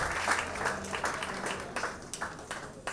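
Applause from an audience welcoming guests onto the stage at a Hindi-language community event; fairly soft, scattered clapping with a few distinct sharper claps toward the end.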